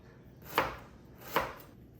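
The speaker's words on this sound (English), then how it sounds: "If you use lemongrass in laab, you have to really thinly slice it." A knife thinly slicing lemongrass on a cutting board for laab, two crisp, close chops about a second apart over a quiet background.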